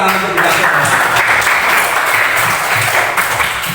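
Children clapping their hands together in a classroom lesson, loud and close, with voices mixed in under the steady clapping.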